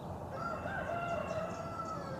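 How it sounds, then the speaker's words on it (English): A rooster crows in a long drawn-out call over a steady outdoor background, moderately near. "the chickens and cockerels"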